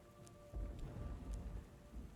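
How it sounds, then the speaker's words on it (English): Stormy beach ambience from the occult video game Book of Hours, with a steady wash of rain-like noise and deep rumbling thunder that swells in after a moment and rolls on, low and heavy, with no voices. "Thunder growling, waves pounding"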